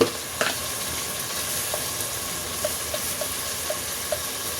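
Bottle gourd and chicken frying with spices in a pan, giving a steady, fairly loud sizzle with a few light stirring taps throughout, no talk.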